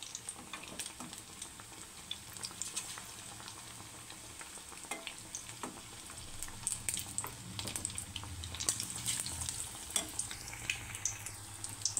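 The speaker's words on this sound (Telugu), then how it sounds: "ఇలా అటు ఇటు కాగే వరకు తిప్పుకుంటూ ఇలా గోల్డెన్ కలర్ వచ్చే వరకు ఫ్రై చేసుకోవాలి" Egg bujji pieces frying in hot oil and being turned until golden, giving a soft, steady sizzle with scattered small pops and crackles, fairly faint and with no talking.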